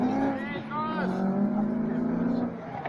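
Race cars drive in a final heat, their engines droning and revving steadily, with a commentator talking over them throughout.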